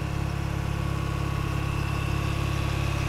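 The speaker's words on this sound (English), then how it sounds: "Engine running condition seems to be pretty good." A 1989 Mazda RX-7 Infini Turbo FC3S with its rotary engine idling steadily, a low even pulsing hum with a faint mechanical whine, heard close and alone without talk.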